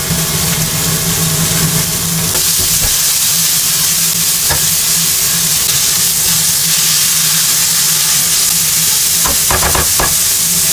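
Mushrooms sear in a dry pan over high heat, producing a loud, close, constant hiss and sizzle with occasional clatters of stirring. No voice is heard.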